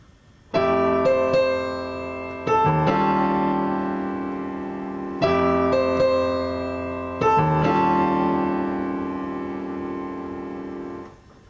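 Piano playing with both hands, full chords over a low bass line, in four sustained phrases that each swell then slowly fade, no voices.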